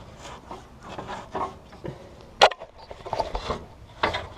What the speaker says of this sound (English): You can see the spring collar turning.